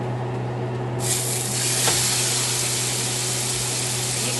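Meat drops into a smoking-hot pan and bursts into a loud, broad sizzle that stays steady and close, with a low electrical hum underneath and no talking.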